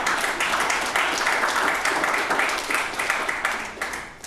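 Sustained applause from a podcast audience, a dense steady wash of many hands clapping at even loudness throughout, with no talk over it.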